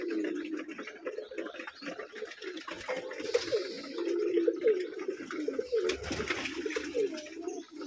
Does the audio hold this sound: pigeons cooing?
yes